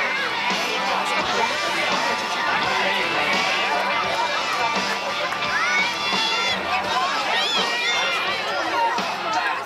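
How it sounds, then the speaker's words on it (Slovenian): Crowd at a children's basketball tournament trophy ceremony, a dense roar of clapping, cheering and children's shouts, loud and sustained. "En aplavz za Gorana."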